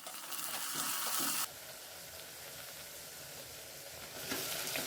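Soft sizzle of tomato frying in a pan for mushroom rice, a brighter hiss at the start and end with quieter frying in between.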